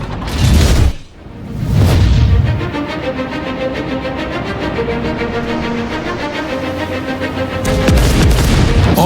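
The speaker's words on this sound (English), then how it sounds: "The roar from primary armament fire is a three-layered sound. The attack, the body of the sound and the tail of the shot." A World of Warships naval main battery salvo fires with heavy booming blasts, opening with a loud deep report, then a long rumbling body and a drawn-out roaring tail that swells again at the end.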